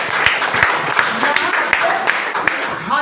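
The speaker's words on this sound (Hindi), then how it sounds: "जितने लोगों को मच्छर काटा है, और जोरदार ताली अपने लिए बजा दें" Rapid, crowd applause from an audience at an outdoor gathering, loud and near, with sharp irregular claps spread through the whole stretch and a voice talking over it.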